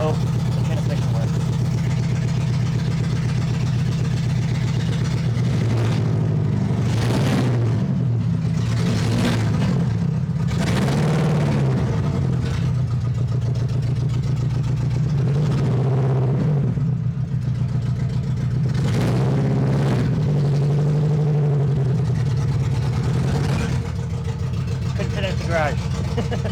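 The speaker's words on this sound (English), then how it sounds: "The engine now runs, and I really hope the transmission works." Car engine running in a garage during a shakedown after repairs, a steady low idle that rises in several revving surges, loud and close, with someone talking over it at points.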